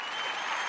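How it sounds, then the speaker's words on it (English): Applause sound effect played by a podcast host, a brief, dense wash of many hands clapping with steady, even loudness throughout. "I think I have clapping here somewhere."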